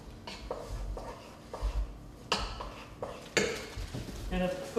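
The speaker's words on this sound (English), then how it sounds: "Get those stirred in so they start to melt" A spoon stirs ingredients in a pot over medium-low heat so they melt, giving a few spaced clinks and scrapes against the metal at close range.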